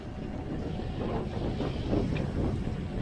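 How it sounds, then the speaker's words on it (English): A westerly wind blows steadily over a sailboat at sea off Baja, Mexico, making a continuous low rushing roar with gentle swells in intensity, close and moderately loud, with no talk. "the westerly has started"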